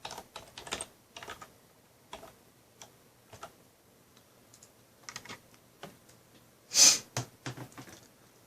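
A computer keyboard is typed on in short, irregular bursts of soft, close clicks with pauses between them, and a brief louder rustle partway through.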